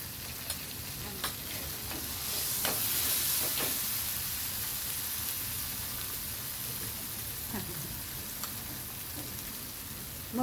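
Mustard seeds sizzle and crackle in hot oil while cooking vada pav, a steady frying hiss with scattered pops and a few clinks, fairly quiet and close, no talking.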